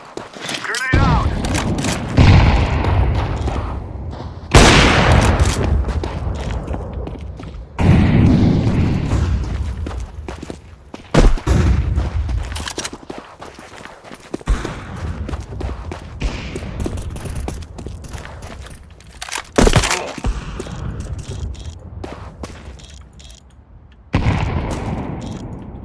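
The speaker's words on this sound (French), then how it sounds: "Grenade out!" Grenade explosions and gunfire in the video game CS GO, with several sharp loud booms each trailing off into rumble, interspersed with bursts of shots and players talking between blasts.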